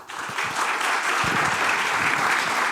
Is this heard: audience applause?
yes